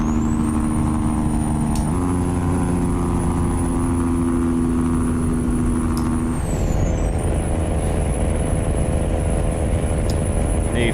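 A truck's Jake brake in a trucking video game, pulling a coal bucket trailer: a loud, steady engine drone with a sustained whine that shifts pitch partway through, and no talk.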